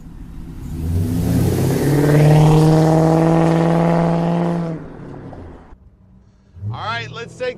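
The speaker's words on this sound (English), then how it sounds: "Listen to that LS1 purr." A 1955 GMC Suburban Carryall fitted with an LS1 V8 revs loudly and close by, its engine note rising and holding for several seconds before dropping off, followed by a short burst of revving.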